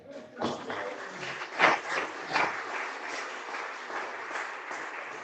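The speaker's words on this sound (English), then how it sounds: "Another round of applause." Another round of applause from a gathering at a rural live-streamed event: a moderate, uneven patter of clapping from a modest crowd, rising in a couple of stronger bursts and continuing steadily at mid distance.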